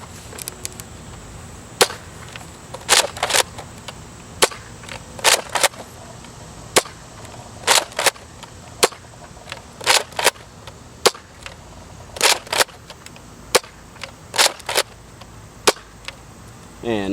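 A modified Nerf Elite Retaliator blaster fires stock Elite darts on a range, each shot a sharp snapping pop, mostly single shots with a few quick pairs, spaced about a second apart over steady quiet background.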